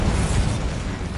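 The Bombarda explosion spell in the video game Hogwarts Legacy goes off as a dense, loud, rumbling blast that fills the whole moment without any pause.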